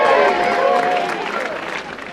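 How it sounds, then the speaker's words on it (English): Small-town crowd at a wood burning cheers and claps in a dense burst that fades slightly toward the end, fairly loud and continuous. "A big cheer for Dick!"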